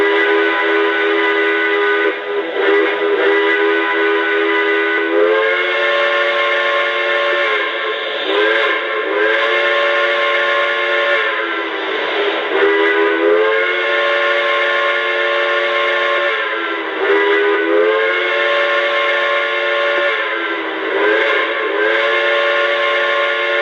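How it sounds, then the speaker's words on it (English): A Lionel Pennsy M1a model train set sounds its whistle in repeated long, loud chords with short breaks between them. The blasts fill the whole stretch, with no voices. "let's hear the whistle. And like I said before, this is a fantastic sounding whistle"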